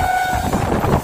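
A local train on the Azimganj Junction to Krishnanagar Junction line rumbles along the rails near the Nasipur rail bridge, a dense, loud, steady roar with a brief tonal whine at the start.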